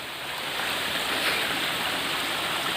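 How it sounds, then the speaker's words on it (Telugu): A forest waterfall roars as a broad, steady rushing wash of water, continuous and fairly loud, with no voices over it. "మన వాటర్ ఫాల్ కనిపిస్తుంది కదా"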